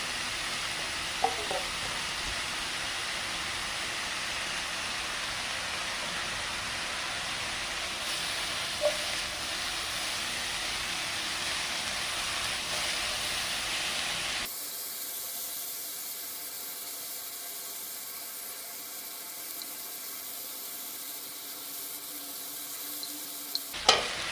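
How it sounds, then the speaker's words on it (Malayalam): Onions with a quarter kilo of small shallots fry in a pan, giving a continuous hissing sizzle that drops sharply in loudness partway through and then stays quieter and steady. "സവോള ഇവിടെ വഴന്നു വരുന്ന സമയത്തേക്ക്"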